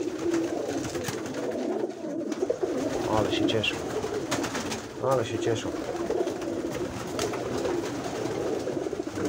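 Pigeons coo repeatedly at their loft after returning home, soft throaty calls close by over a busy background, while someone speaks briefly.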